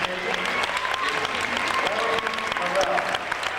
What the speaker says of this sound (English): let's give them a rare round of applause for members of the Hallsville Police Department